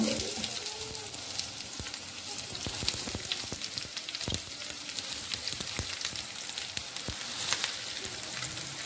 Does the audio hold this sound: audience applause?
no